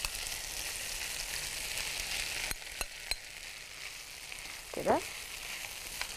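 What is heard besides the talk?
potatoes frying in butter in a pan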